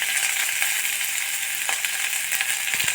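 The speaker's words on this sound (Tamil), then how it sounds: "கொஞ்சம் பீன்ஸ், உருளைக்கிழங்கு, கேரட், இது வந்து கொஞ்சம் நல்லா வதக்கிக்கலாம்." Cabbage, beans, potato and carrot sauté in a pan for Chinese vegetable soup, giving a steady, close sizzle and fry with a few faint stirring scrapes and no voices.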